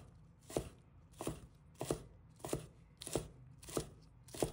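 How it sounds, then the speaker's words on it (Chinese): A knife chops scallion whites into small pieces on a cutting board, seven or eight evenly spaced crisp knocks at a steady rhythm, close and fairly quiet. "一把葱白，把它切成小粒。"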